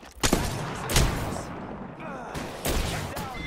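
Gunfire aimed at the player in a shooter game: loud, close bursts of shots cracking in quick clusters, with brief gaps of ambient noise between volleys.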